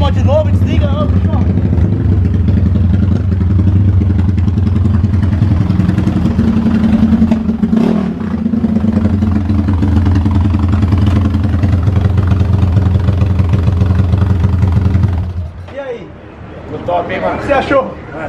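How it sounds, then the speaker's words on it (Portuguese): A Today 371cc motorcycle engine runs at a steady loud idle close by, then cuts off near the end, after which people start talking. "ele liga a moto de novo, desliga, ó, puxou."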